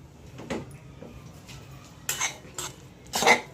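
Peanuts are stirred fast into hot chikki syrup in a pan, giving scattered scraping and clinking knocks of a spoon against the metal, louder bursts toward the end, over a soft background hiss.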